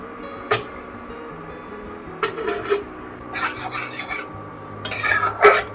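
A utensil stirs milk into garlic creamy mushroom in a pan, with scraping, rubbing strokes in irregular bursts against the metal and soft liquid sounds, close and fairly loud.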